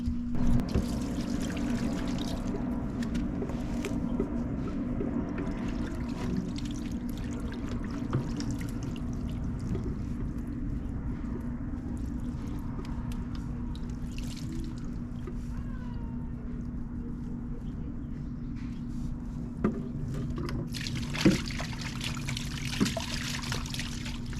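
Water pours and trickles in a continuous faint stream, with a steady low hum underneath and a few sharp clinks near the end.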